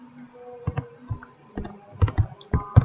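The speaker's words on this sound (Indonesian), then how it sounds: "Untuk melihatnya terhapus atau tidak, kita ketik aja select" Typing on a computer keyboard, with a few irregular key clicks followed by quicker clustered taps, close and fairly quiet.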